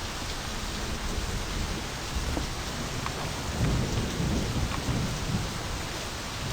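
Steady, heavy rain pours down in a constant wash of noise, with low rumbles of thunder swelling midway; no voices.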